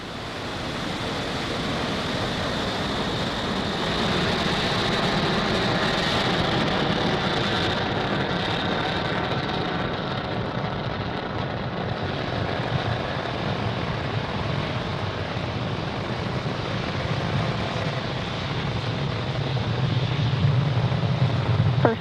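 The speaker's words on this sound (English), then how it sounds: "Ignition and liftoff." A Falcon 9 rocket ignites and lifts off, a broad, continuous roar heard at a distance that holds steady and swells slightly toward the end, with a crackling rumble through it.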